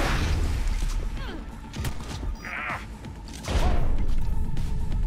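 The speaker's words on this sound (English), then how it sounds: "Oh, explosion happened." An explosion in the video game Cyberpunk 2077 booms out inside a loud club scene, a burst of crashing noise over dense background music, with a voice talking faintly underneath.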